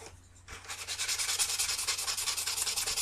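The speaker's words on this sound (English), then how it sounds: "see if I can sand these down a bit" Sandpaper rubbed on wood to smooth down protruding pieces in a bedroom build, a steady rhythmic scratching that begins after a short quiet moment and continues close and fairly loud.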